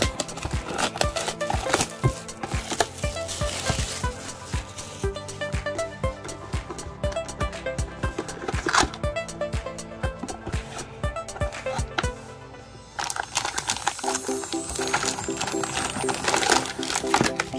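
A 2020-21 Panini Recon basketball card hobby box is opened up close, with steady crinkling, tearing and rustling of wrapping and cardboard and no talking.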